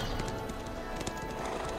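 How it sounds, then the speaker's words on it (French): Hooves clip-clop in quick rhythm as a tier 7 horse trots in the video game Black Desert Online, close and steady over a soft background hum. "On va prendre le cheval quand même"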